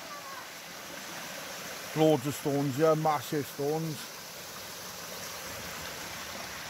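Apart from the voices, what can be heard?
stream flowing under a bridge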